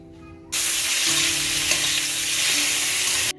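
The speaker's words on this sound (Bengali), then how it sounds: "কড়ায় তেল দিয়ে একটু নুন হলুদ দিয়ে ডিমগুলোকে ভেজে সাইড করে রেখে দেব" Boiled eggs rubbed with salt and turmeric hit hot oil in a wok with a sudden loud sizzle that holds steady for about three seconds, then cuts off sharply.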